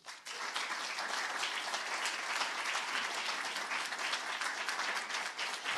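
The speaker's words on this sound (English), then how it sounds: "That applause was for Dr. Salmon." Audience applause at a Blue Ribbon Schools announcement ceremony, a dense, sustained wash of clapping from a large crowd that holds steady for several seconds without talk.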